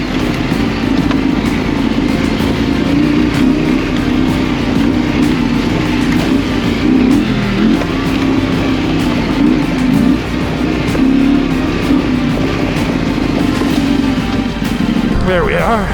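A KTM 890 adventure motorcycle ridden on forestry bush trails near Noosa, its engine droning steadily and loudly throughout with constant wind rush, close to the rider.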